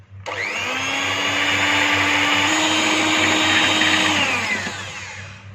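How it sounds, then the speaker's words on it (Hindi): An electric mixer beating an icing sugar mixture for birthday cake batter, a loud steady whir that holds for about five seconds and then winds down, close and alone. "थोड़ा सा इस तरह से इसको मिक्स कर लेंगे और 1 मिनट के लिए बीट कर लेंगे"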